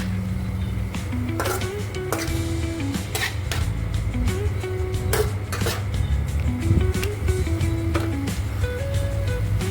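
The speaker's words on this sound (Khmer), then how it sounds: "បន្ទាប់មកយើងច្របល់ចូលគ្នាសព្វមក" A utensil scrapes and clinks against a metal pan as a stir-fry with oyster sauce, sugar and soup powder is stirred, loud and close in irregular bursts over a steady background hum.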